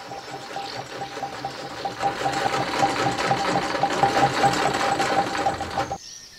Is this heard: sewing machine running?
yes